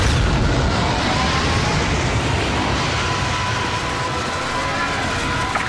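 In Star Wars Battlefront 2, the Death Star explodes as a long, dense, roaring rumble that stays loud and sustained throughout, with no distinct individual blasts.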